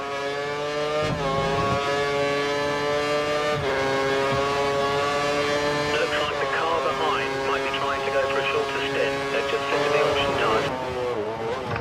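Race cars in a racing video game at the Spain circuit drone past with high, steady engine tones that rise and shift as they pass. Commentary voices talk continuously over the engines.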